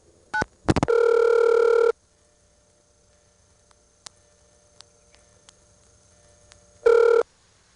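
Telephone dialing of 119 through an ITT Pentaconta crossbar exchange: a few short tone bursts, a longer tone, scattered faint clicks over a low hum, then another tone near the end.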